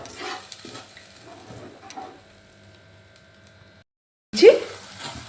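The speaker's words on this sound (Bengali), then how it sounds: "এবার দিয়ে দিচ্ছি একটু জল বেশি জল দিইনি সামান্য একটু জল দিয়ে দিলাম যাতে মশলাটা তলায় না লেগে যায়" Spice paste of mustard frying in a pan, a loud burst of sizzling near the end after a quiet stretch, preceded by soft stirring and cooking sounds, with no talk.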